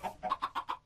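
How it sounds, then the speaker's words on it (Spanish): Chickens cluck in a video game, a quick run of about six short, clipped clucks in a steady rhythm, fairly quiet and alone. "Creo que son gallinas porque tienen sonido de gallinas, pero parecen patos."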